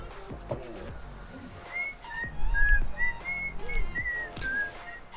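A person whistles a bright, wavering melody of short sustained notes for a few seconds, close and fairly clear, over faint background noise and scattered low thumps during a Farming Simulator 19 session.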